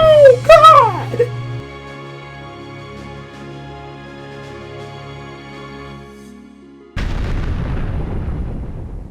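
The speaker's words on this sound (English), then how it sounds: "Wow, that explosion is so delayed for no reason." A delayed blast in the video game Final Fantasy Fables: Chocobo Dungeon comes after opening chirpy game sounds and a long low hum, then booms in suddenly and loudly and rumbles on to the end.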